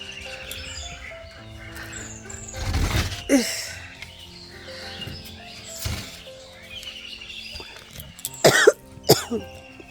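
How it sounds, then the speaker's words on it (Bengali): A person coughing outdoors on a cold, foggy morning, a few harsh close coughs and throat-clearing bursts over wind and faint birdsong. "এত কাশি হয়ে গেছে।"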